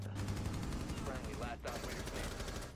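Rapid bursts of video game gunfire rattle on steadily throughout, loud and dense, with a voice murmuring underneath at moments.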